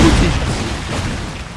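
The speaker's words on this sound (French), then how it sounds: "Les grenades." Grenade explosion in the Assassin's Creed video game: one loud, close boom that dies away over a second and a half.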